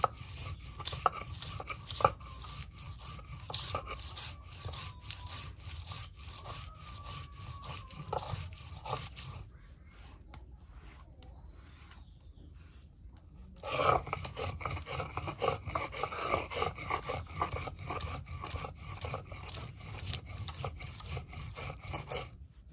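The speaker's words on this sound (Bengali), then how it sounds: "জিরা, রসুন, পেঁয়াজ, হ্যাঁ একসাথে সব দেখুন পাটায় ফেসে নেওয়া হচ্ছে" Cumin, garlic and onion being ground by hand on a pata grinding stone, a rhythmic rough rubbing and scraping that repeats steadily, pauses briefly midway, then resumes strongly.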